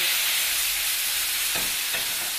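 Onions sizzle loudly and continuously in a hot pan as balsamic vinegar is drizzled in, a dense crackling hiss with a couple of soft stirring knocks.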